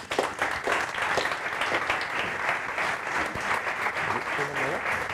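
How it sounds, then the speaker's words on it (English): An analytics conference audience claps for speakers coming on stage, a dense, even wash of applause from a room full of people with faint voices mixed in, sustained at a steady level. "So big applause for them."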